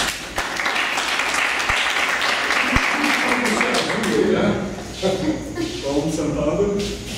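Audience applause breaks out at a coaching and NLP training workshop, dense clapping fading as voices and chatter take over toward the end.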